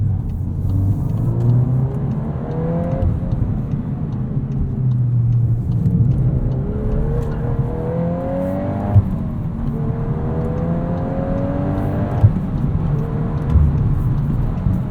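A 2022 Volkswagen Golf R with a six-speed manual gearbox drives hard, its engine revving up through the gears in repeated rising sweeps over steady road and tyre rumble, close and loud throughout with no talking.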